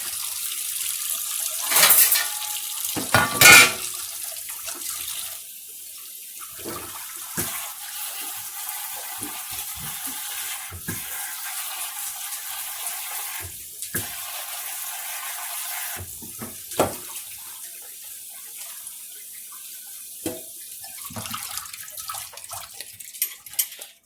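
Tap water running into a kitchen sink while cube steak is washed, a steady close splashing stream broken by several brief louder splashes and handling noises.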